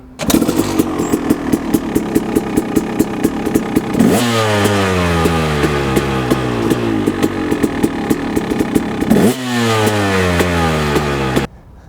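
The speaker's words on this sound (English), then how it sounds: "Making sure your bike is in neutral, start the bike." KTM or Husqvarna motorcycle engine in neutral starts and idles with a close, loud rapid popping beat, briefly revved twice with rising and falling pitch before settling back to idle.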